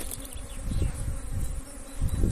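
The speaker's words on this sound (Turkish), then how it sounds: "arıdaki arıları silkeleyeceğiz" Honeybees buzzing on a hive frame as a beekeeper works the hive, a dense, close swarm drone that swells and dips continuously with no voices.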